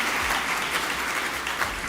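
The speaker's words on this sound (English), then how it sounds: "can we have a huge round of applause for the M-Pesa Foundation Academy?" Dense, sustained audience applause at a launch event, many hands clapping at once in a continuous roar filling the room.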